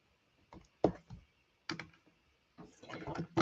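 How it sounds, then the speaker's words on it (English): A paper trimmer cuts paper for scrapbooking in a few short, close clattering clicks and slides, separated by brief silences, ending in a longer rasping pass of the blade. "Let's just use the trimmer then"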